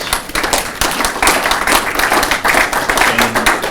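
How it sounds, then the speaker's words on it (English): A small audience claps for panelists at the close of a panel discussion, a brisk, fairly near round of many overlapping hand claps lasting nearly four seconds. "give them a round of applause"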